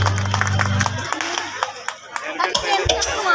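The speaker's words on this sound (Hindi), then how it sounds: "कीबोर्ड में है हमारे टोटन भैया, उनके लिए बात जोरदार हाथ ताली सभी मिलके" An audience claps for a keyboard player at a live music programme, a loud, busy patter of hands at first over a low sustained keyboard tone that fades after a second, leaving uneven clapping.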